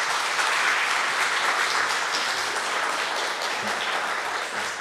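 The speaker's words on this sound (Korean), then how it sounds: "우리 하나님 앞에 영광의 박수로 환영하겠습니다." A church congregation gives warm, sustained applause to welcome a pastor to the pulpit at a Sunday morning service, dense clapping throughout.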